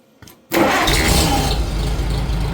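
A Farmall C tractor engine cranks briefly, then catches and settles into a loud, steady, close running rumble.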